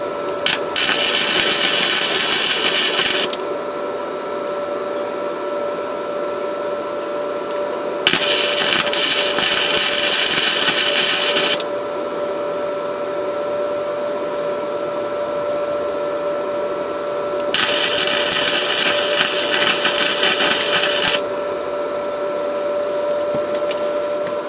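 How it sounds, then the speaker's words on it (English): Flux core welding on a car exhaust pipe at a lowered heat setting, a loud crackling hiss that runs in three bursts of several seconds each, separated by quieter gaps with a steady background hum. "we'll go ahead and weld the rest of this"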